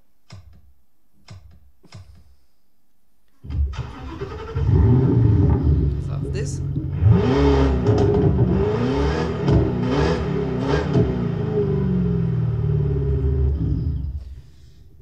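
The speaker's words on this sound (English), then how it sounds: "Let's go to the V8 engine, and we go for the basic setup as well." A V8 car engine starts after a few faint ticks, then runs loudly with repeated revs rising and falling over a steady rumble, close by and prominent until it cuts off near the end.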